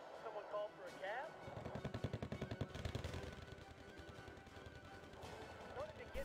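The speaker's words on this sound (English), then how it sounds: "Power of a 50 caliber machine gun." A .50 caliber machine gun in Wargame: Red Dragon rattles out a fast, sustained burst of rapid shots, fairly faint and mixed with other battle noise.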